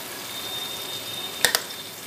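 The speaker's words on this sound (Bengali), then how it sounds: "দেখুন এটাকে এবার হাই ফ্লেমে আমি নেড়ে চেড়ে একটা শুকনো মতন পুর বানিয়ে নেব।" Lentil batter filling fries in a pan over a high flame for radhaballavi. A soft, continuous sizzle is broken by two quick, sharp scraping taps from the stirring.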